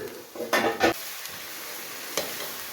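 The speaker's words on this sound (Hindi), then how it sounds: "तो अब डाल दूँगी मैं चिकन।" Overnight-marinated chicken going into a hot karahi for white chicken karahi, with a loud burst of sizzling and stirring that settles into a softer fry and one more scrape.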